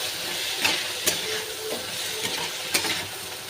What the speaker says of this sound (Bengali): দিয়ে আমি একটু নেড়ে চেড়ে নেব।